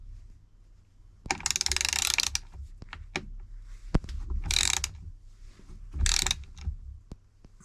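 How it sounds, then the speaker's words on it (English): Ratchet tightening the crank of a Lambretta Super Tourer engine during a build, three bursts of fast clicking ratchet strokes close by, separated by quieter pauses with occasional sharp metallic knocks. "Get the old ratchet on it again."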